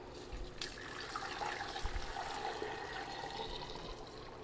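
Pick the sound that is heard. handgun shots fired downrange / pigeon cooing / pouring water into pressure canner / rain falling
pouring water into pressure canner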